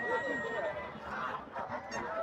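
Chinese geese honk at a busy poultry market. Several loud, close honks sound over the first part and near the end, with crowd murmur and distant voices beneath.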